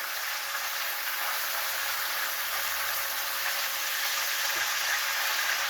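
Ground meat frying in a pan for a meat sauce, a steady bright sizzle throughout, with a faint scrape as the meat is broken up near the end.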